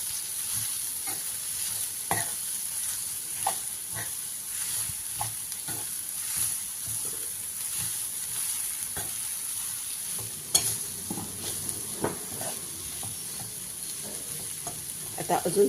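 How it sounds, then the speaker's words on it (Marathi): Onions fry in a kadai, added in batches, with a steady moderate sizzle and frequent scraping stirs of a spatula against the metal throughout. "आपण थोडा थोडा करत कांदा घालणार आहोत यामध्ये, कारण पूर्ण कांदा कढईमध्ये बसणार नाही"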